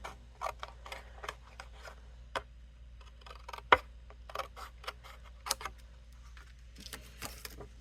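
Scissors trimming a Christmas card, a close series of crisp snips and small clicks at an uneven pace with brief pauses between cuts, quiet and alone with no talking.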